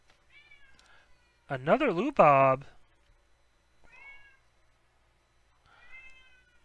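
A cat meows repeatedly nearby, with several separate drawn-out cries and one louder, longer yowl, between short bits of a man's speech during a sports card break.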